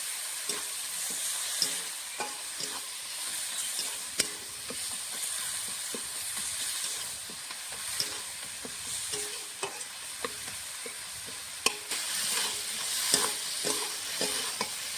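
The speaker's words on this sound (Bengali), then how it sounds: "মশলাটা ভালো করে কষিয়ে নেব।" Spice paste with chili powder frying in oil in a pan for a tilapia curry, with a continuous sizzle and repeated scraping, tapping stirs of a utensil, close and fairly quiet, no voices.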